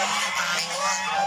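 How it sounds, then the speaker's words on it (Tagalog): A goose honks loudly and repeatedly at close range, harsh nasal calls running together without pause. "Yan po guys, ang ating gansa. Napakaingay."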